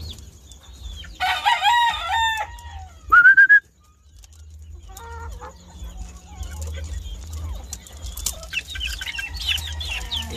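Rooster crowing with chicken clucks and whistling bird calls on a farm where gamecocks are bred, a loud crow early then scattered clucks and chirps over a low steady rumble.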